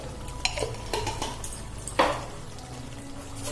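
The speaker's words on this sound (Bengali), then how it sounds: "এবার ভালো করে নাড়াচাড়া করে আমি বন্ধ করে দেবো" A vegetarian potato and papaya curry finished with a sprinkle of ghee is stirred in a pot. A few close metallic clinks and scrapes sound over a steady low background.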